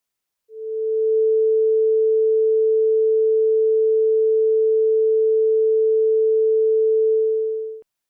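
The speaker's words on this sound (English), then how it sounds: "Let's listen to the sound of a sine wave for a moment." A single pure sine tone holds steady and loud for about seven seconds, then cuts off cleanly, with nothing else around it.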